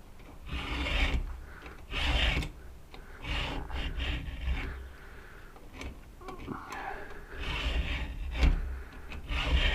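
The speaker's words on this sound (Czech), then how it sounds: "takže to budeme brousit na těch 25" A 4.5 mm file rasps across the chain of a McCulloch MAC130 chainsaw in repeated strokes, each a gritty scraping burst, close and rhythmic with brief pauses between passes.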